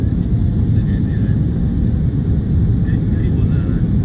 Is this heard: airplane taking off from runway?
yes